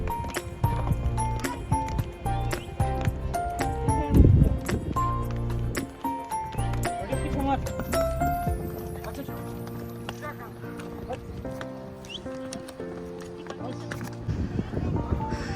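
Horse hooves clip-clopping while carrying a rider along a snowy mountain trail at Thajiwas glacier, Sonamarg, with rhythmic hoof beats under loud music and chatter.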